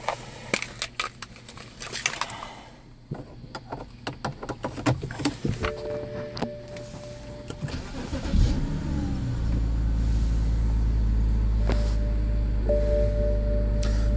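A 2013 BMW 328 xDrive: clicks and handling noises come first, then the engine cranks, catches and settles into a loud, steady idle close by.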